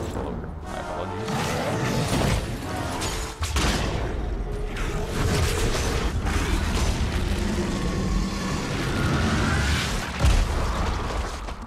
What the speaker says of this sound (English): Exploding body parts.